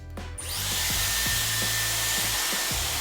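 Dyson Airwrap running on high heat and high speed clicks on, then blows a steady loud airy whoosh with a thin whine, while a few soft bumps from handling sound underneath.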